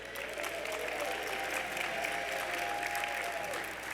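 Audience applause with some cheering at the mayor's State of the City address, a steady, dense burst of clapping filling the hall that continues without letup.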